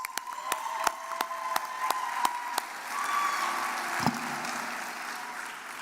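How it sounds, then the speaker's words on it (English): Applause for Honors College graduates at a 2024 university commencement, a large crowd clapping steadily from a distance over a hall's ambience, with a few sharper claps at the start, continuing throughout. "Another round of applause for our Honors College graduates."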